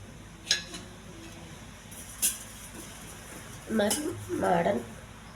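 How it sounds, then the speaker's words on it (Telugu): Sesame seeds dry-roasting in a pan are stirred, with a few sharp metallic clinks of the utensil on the pan followed by softer scraping and rustling toward the end. "నువ్వులండి కొంత లైట్గా ఎగించాలి"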